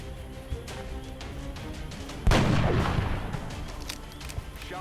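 A weapon shot in the XCOM Long War mod, a single loud, sharp blast midway with a rolling, decaying tail over a steady background of game ambience, no talk.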